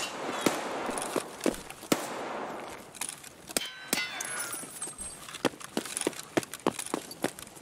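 Video game gunfire snaps out as sharp, clanging single shots and quick pairs in an irregular rhythm, fairly close and punchy over a low background rumble, with no talk.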